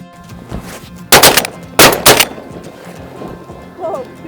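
Shotguns go off during a waterfowl duck hunt: two loud, sharp double bursts close together, over a low murmur of background sound. No clear quacking can be picked out.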